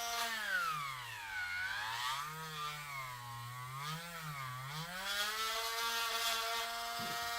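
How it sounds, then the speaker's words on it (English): A Dremel rotary tool drills out the glove area of a toy figure, its high whine sliding up and down in pitch as the bit loads and frees in the plastic, running continuously and close. "Let's see if we can't keep what we have made and Dremel this out a little more."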